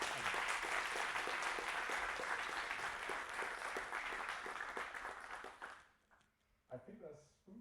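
Audience applause fills a meetup talk on Kubernetes operators and Terraform providers, loud and dense clapping sustained for about six seconds before it breaks off, leaving scattered voices and light room noise.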